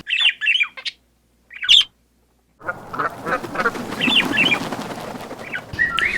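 Several wild birds squawk and call in loud, harsh bursts, first in short separated clusters, then repeated over a dense, busy background of other bird and wildlife sounds.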